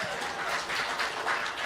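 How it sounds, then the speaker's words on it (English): An audience claps in a comedy show, a brief burst of scattered applause heard from across the room. "Why are you clapping?"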